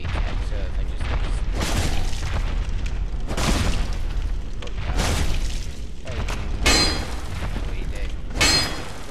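Heavy attacks in the video game Dark Souls land as loud, booming impacts with bursts of crashing noise, arriving in several heavy waves over a dense, continuous game soundscape.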